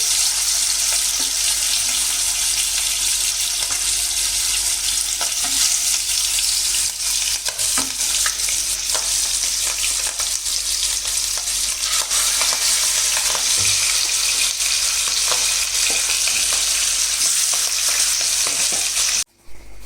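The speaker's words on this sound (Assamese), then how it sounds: "এতিয়া মই মাছ দি দিছোঁ।" Fish sizzles and spatters steadily in hot mustard oil for a fish kalia, with a dense, continuous crackle that stays loud and close and then stops abruptly at the very end.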